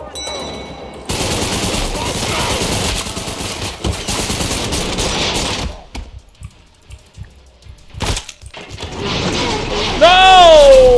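Sustained rapid gunfire in the game Trepang2, with loud, dense automatic bursts that come close together, break off briefly, then start again, and a person talks over part of it.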